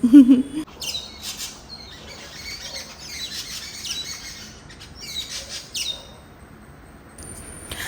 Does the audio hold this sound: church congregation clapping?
no